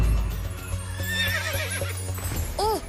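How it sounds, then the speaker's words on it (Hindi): A cartoon horse gives a loud whinny toward the end, over a low background drone, with faint hoof-like knocks earlier. "ओह, चेतक! ये तो चेतक की आवाज है।"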